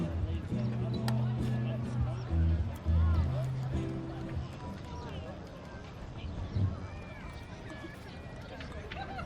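Hooves thud on the ground as a show-jumping horse runs past at an agricultural show, mixed with crowd chatter and a voice over a loudspeaker.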